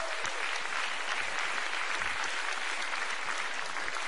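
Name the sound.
audience applause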